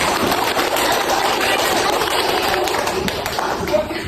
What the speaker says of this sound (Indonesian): Coba tolong kasih tepuk tangan buat temannya yang sudah tampil.